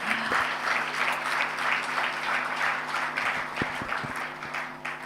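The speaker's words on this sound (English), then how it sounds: "So I really would love you to acknowledge them with a very, very warm applause." An audience at an evening awards and conversation event applauds warmly, producing a continuous wash of clapping with a few louder, sharper claps near the end over a faint background hum.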